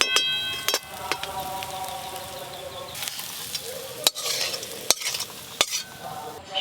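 Whole cumin seeds and raw chopped onion fry in hot oil in a pan for a potol bhorta, a steady close sizzle broken by sharp clinks and scrapes of a spatula stirring.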